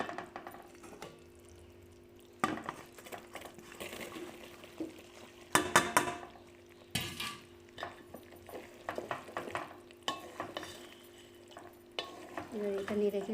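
Boiled jujubes stirred into melted jaggery in a pan for pickle, with a spoon scraping and clattering against the pan in irregular bursts over a soft steady sizzle, close and moderately loud.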